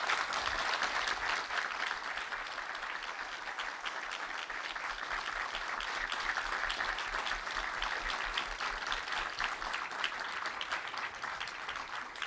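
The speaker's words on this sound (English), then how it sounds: "a big round of applause" Sustained audience applause fills a hall after a talk by Ukraine's central bank governor, steady dense clapping holding at an even level for about twelve seconds with no voices over it.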